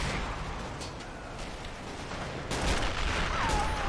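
Men of War: Assault Squad 2 battlefield with dense, continuous rattling gunfire and distant artillery thuds, a harsh crackling wash that swells louder partway through and stays busy throughout.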